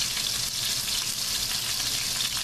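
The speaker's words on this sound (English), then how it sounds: "I'm going to add part of my yellow onion to the bottom of that pot" Chopped yellow onion hits the bottom of a hot pot used for a stuffed beef rump roast, producing a constant, loud frying hiss with no pauses and no voices.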